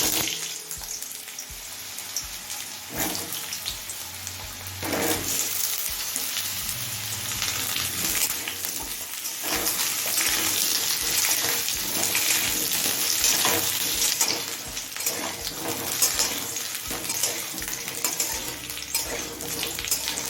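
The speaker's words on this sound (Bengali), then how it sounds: "এবার তিনশো গ্রাম পরিমাণে আলু ভেজে নেব" Potatoes fry in hot mustard oil in a kadai over a high flame, producing a steady, close frying sizzle punctuated by occasional stirring knocks and scrapes throughout.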